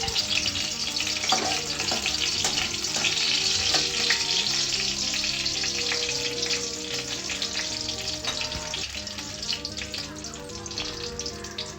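Two dried red chillies tempering in hot mustard oil, a steady crackling sizzle heard up close with occasional sharp pops, with a low background hum underneath.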